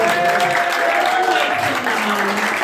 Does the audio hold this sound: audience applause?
yes